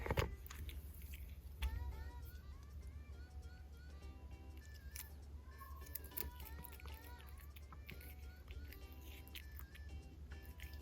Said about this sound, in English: She just munches.